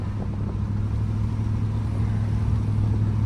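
Steady rumble of an 8.1 big block engine with a freshly repaired exhaust, holding a continuous low raspy drone close by with no voices.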